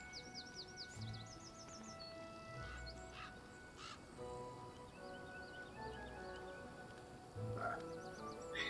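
A huge frog croaking in the video game Pathfinder: Kingmaker, repeated quacking croaks among chirping calls over a low swampy ambience, faint with a louder burst near the end.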